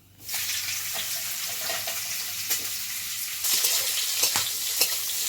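Vegetables fry in a pan with a steady, close sizzle that starts abruptly and grows a little louder partway through. Occasional clicks and scrapes of stirring mark the sound.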